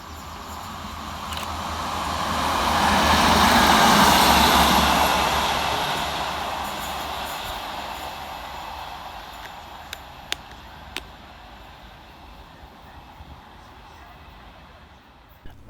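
A Northern Class 150 diesel unit, 150130, runs non-stop through the middle road at Levenshulme station, a broad rumble swelling as it nears, then fading away, followed by a few sharp clicks and knocks.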